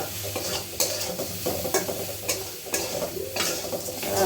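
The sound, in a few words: frying and stirring in a pan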